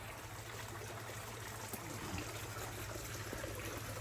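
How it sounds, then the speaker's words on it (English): Water trickles and streams steadily into a fish pond at a restaurant, a soft continuous burble with no pauses and a low background hum beneath it. "So it's got lots of water flow."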